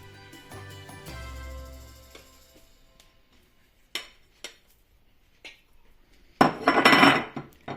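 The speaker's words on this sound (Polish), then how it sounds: "A teraz dodajemy 500 g mięsa mielonego wołowego podzielonego na kawałki." Minced beef pieces going into a cooking pot, with scattered clinks and knocks of utensils against the pot and one louder burst of clattering near the end, close and without talk.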